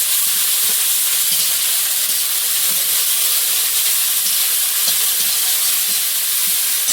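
Garlic and ginger paste sizzles steadily in hot oil as a vegetable and fish curry is cooked outdoors, a dense continuous hiss with faint stirring clicks, close and even throughout with no talk.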